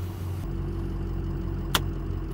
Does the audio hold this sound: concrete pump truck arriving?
yes